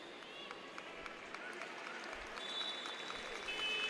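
Spectators at a women's basketball game between Venezuela and Chile applaud steadily, a broad clapping wash that swells slightly toward the end, with a commentator talking over it.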